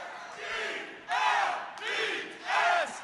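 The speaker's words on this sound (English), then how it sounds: "who wants to lead the Eagles cheer?" A crowd at the Philadelphia Sports Hall of Fame induction ceremony chants the Philadelphia Eagles cheer. It comes as four rhythmic, swelling bursts of many voices, moderately distant and echoing in a large hall.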